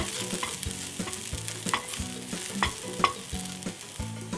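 Green peppers cook in a pan for menemen, sizzling steadily while a utensil stirs and taps, giving irregular clicks and scrapes over the hiss, up close.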